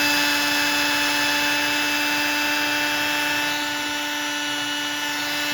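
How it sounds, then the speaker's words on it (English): An electric drill whines at a steady high pitch throughout, loud and close, drilling a hole through a shoe, its motor tone holding constant without pause or speech. "And drill the hole through."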